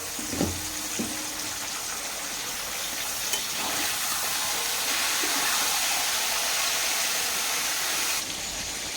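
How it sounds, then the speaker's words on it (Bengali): Brinjal pieces fry in a pan with salt and turmeric, giving a steady broadband sizzle and hiss that holds for several seconds, with a few faint clinks near the start. "বেগুনটা কিছুক্ষণ ভাজা হোক।"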